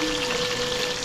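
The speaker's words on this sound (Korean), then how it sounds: "언제나 튀기고 있어" Chicken deep-frying in oil in a home kitchen gives a steady, dense crackling sizzle, close and constant throughout with no talking.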